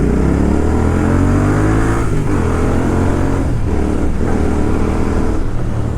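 Royal Enfield Interceptor 650 motorcycle fitted with a PowerRage full exhaust system, revving loud and close with a deep steady drone and smooth rising and falling throttle blips.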